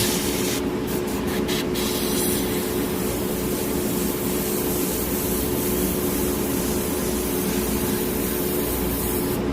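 A Harder & Steenbeck Evolution Silverline airbrush sprays thinned black lacquer, a continuous close hiss of compressed air with a few brief sharp bursts near the start.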